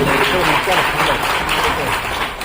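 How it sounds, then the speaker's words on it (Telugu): A crowd applauds at a religious worship ceremony in Rangampet, with a dense, steady clatter of clapping that stays loud for the whole moment. "ఒకసారి గట్టిగా చప్పట్లతో మీరు"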